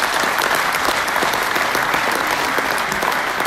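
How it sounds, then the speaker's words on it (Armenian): An audience at a memorial event gives steady, sustained applause, a dense wash of clapping hands that holds at an even level throughout with no voices standing out. "Ծափահարություններ։"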